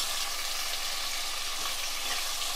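Sliced onions frying in a pan until brown give a steady, close sizzle with a dense, even crackle throughout and no voices.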